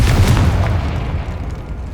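A Confringo fire spell bursts in a Hogwarts Legacy catacomb, a deep rumbling boom that hits loud at once and then decays into a low, fading roar with no talk.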